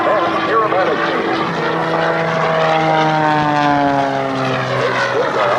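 A Pitts S2C aerobatic biplane at an airshow, its propeller engine droning loudly and shifting pitch as it passes overhead, with an announcer talking over it.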